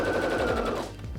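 A Heavy Duty HD6605C sewing machine stitching in a rapid, continuous mechanical whir that runs briefly and then winds down, close and fairly loud.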